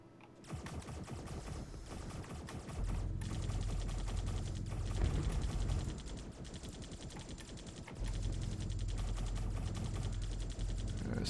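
Rapid automatic turret gunfire in the sci-fi video game Centauri Sector, dense rattling bursts that stop and restart, with a heavier low boom layered in during the louder stretches.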